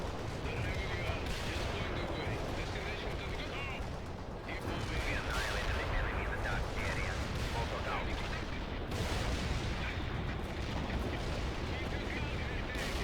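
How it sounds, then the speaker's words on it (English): Dense artillery fire and explosions in the World in Conflict strategy game, a dense continuous rumble of blasts and gunfire with sharper impacts breaking through, loud and unbroken. "Artillery lined up."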